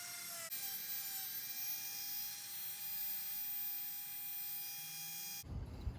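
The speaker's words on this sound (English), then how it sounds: "I've got a very worn down cutoff wheel, and that's what I'm going to start my cuts with right here" A very worn cutoff wheel on a rotary tool spins at high speed while cutting into a handmade topwater catfish fishing lure, giving a steady, loud whine that runs for about five seconds before stopping abruptly.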